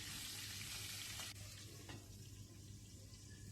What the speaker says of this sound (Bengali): এবার মাছগুলোকে একটু লাল লাল করে ভেজে নিয়েছি